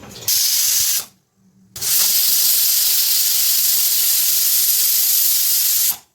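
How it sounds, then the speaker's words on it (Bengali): A pressure cooker steaming fish roe on high flame lets off loud, sharp jets of hissing steam, broken by a brief pause before the long hiss resumes, very close and dominating. "হাই ফ্লেমে চার পাঁচটা সিটি পড়লেই হয়ে যাবে"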